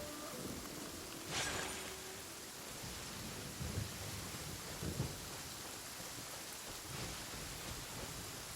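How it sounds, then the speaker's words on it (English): Steady rain pours in the game Genshin Impact, with a few low rumbles of thunder rolling under the constant hiss and no voices. "Let us find shelter from the rain."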